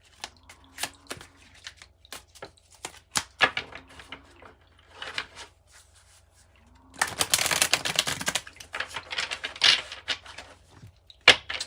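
A tarot card deck being shuffled gives sharp, irregular papery snaps and taps, then a dense burst of riffling cards midway, followed by more scattered clicks, close and alone without speech.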